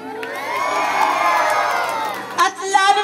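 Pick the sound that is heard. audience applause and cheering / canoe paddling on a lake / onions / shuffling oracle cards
audience applause and cheering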